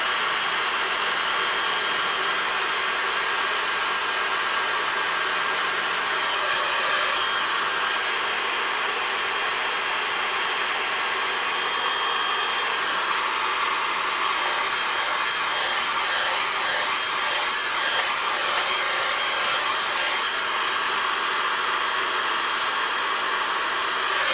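A hair dryer blows continuously and loudly on a watercolour landscape painting to dry it, a steady close whooshing roar holding level for the whole stretch.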